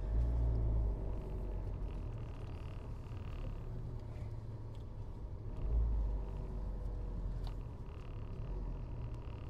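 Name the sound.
car engine idling nearby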